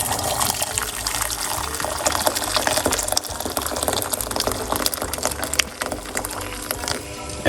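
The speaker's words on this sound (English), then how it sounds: "we are going to put" A cup of hot water poured for a cinnamon, parsley and lemon herbal tea, a continuous close gushing and splashing fill that runs steadily throughout with no talking.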